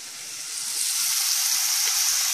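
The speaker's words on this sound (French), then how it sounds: "pour faire revenir les lardons sans matière grasse" Bacon lardons frying without fat in a non-stick pot, a bright, close hissing sizzle that swells in the first second and then holds steady, with a couple of faint low knocks.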